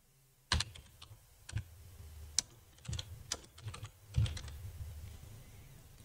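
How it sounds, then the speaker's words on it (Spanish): Typing on a computer keyboard: a few separate key clicks and short bursts of tapping, irregular in rhythm, close but soft in a quiet room. "Lo vamos a escribir con el teclado"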